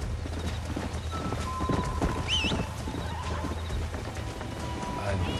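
Galloping horse hooves clip-clop rapidly and steadily in a Red Dead Redemption chase, joined by a brief horse whinny and game music, with someone talking over the action.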